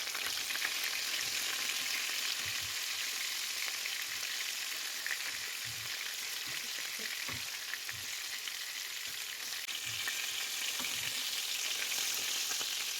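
Chicken fillet cutlets frying in a pan over medium heat, giving a steady, dense sizzle with faint crackles and occasional soft low knocks from the pan, continuous throughout with no talking.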